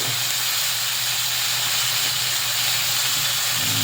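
Bangus fish cooking with black beans gives off a steady, loud sizzle and hiss in the pan, continuous throughout with no pauses.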